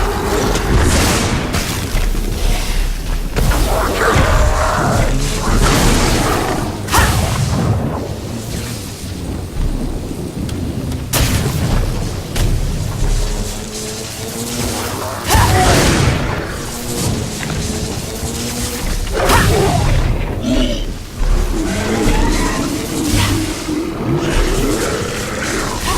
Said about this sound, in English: that charged AoE attack is really powerful